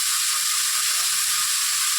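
A spice mix of cumin, mustard, ginger and green chilli for Bengali-style spicy eggplant is stirred in hot oil, giving a steady, bright continuous sizzle with faint scraping underneath.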